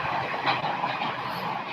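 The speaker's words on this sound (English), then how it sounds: "train comes every 12 minutes" A passing train rumbles by nearby, a loud, continuous broadband roar that holds steady throughout without pauses, heard alone with no talking.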